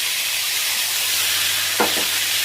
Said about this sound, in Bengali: একটু ভাজা ভাজা হয়ে গেলে এখানে ওই পেস্টটা দিয়ে দিব, মশলার পেস্টটা